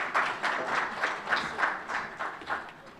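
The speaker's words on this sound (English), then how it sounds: "Please welcome her with a round of applause." An audience at a formal program launch applauds in a soft, fairly distant patter of many hands clapping, with no talk over it.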